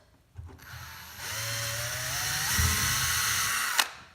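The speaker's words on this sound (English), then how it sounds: "So you drill your 2 holes." A power drill spins up and drills a hole on a racing lawn mower build, running steadily for a few seconds, its pitch shifting slightly as it bites, then cutting off abruptly.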